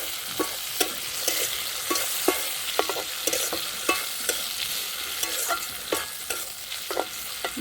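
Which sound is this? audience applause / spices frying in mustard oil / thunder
spices frying in mustard oil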